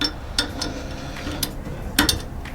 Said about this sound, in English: grab my torque wrench, which I have already set to 30 foot-pounds